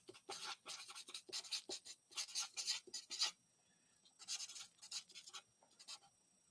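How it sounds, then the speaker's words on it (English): A pen writes on paper in a Marvel activity book, close and quiet scratchy strokes in short rhythmic bursts with a brief pause midway. "let me write that down"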